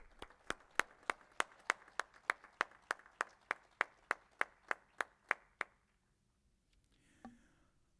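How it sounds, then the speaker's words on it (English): A single person claps steadily at a fast pitch business competition, about a dozen and a half evenly spaced sharp claps over five seconds, then near silence with faint rustling. "Round of applause for Chantel Northrum Harris."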